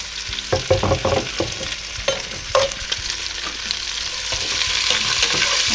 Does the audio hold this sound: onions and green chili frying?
yes